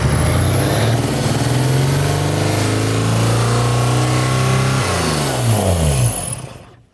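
An old barn-find BMW engine, left unused for about 30 years, runs loudly and close, its revs climbing and falling before it cuts out and fades near the end.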